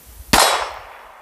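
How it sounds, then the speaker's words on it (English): A single sharp metallic clang of a bullet striking a steel target outdoors in Montana, loud and sudden, then ringing and fading over about a second, with no talking. "Cock the hammer back. Let me see. There you go. Okay, now aim it and shoot."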